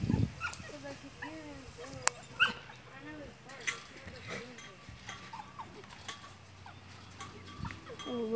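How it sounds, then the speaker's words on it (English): A dog barks a few times amid outdoor noise, with people talking and some clanking or bell-like knocks nearby. "We got a dog in here."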